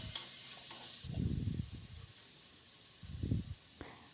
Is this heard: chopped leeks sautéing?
yes